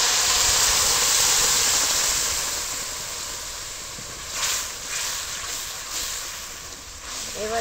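Tomato-chilli paste with Kashmiri chilli powder frying in hot oil for a veg momo chutney, a dense, loud hiss that fades slightly with a few soft stirring bursts.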